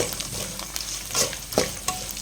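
Cashews fry in hot oil for a tempering, giving a steady close sizzle with a few sharp pops and stirring scrapes.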